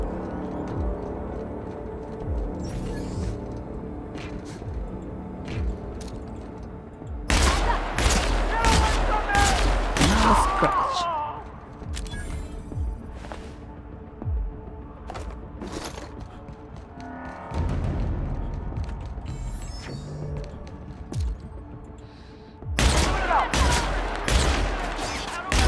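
Gunfire in the PC video game The Outer Worlds: Spacer's Choice Edition, loud bursts of rapid shots in several clusters with sharp impacts between quieter stretches, with talk in the background.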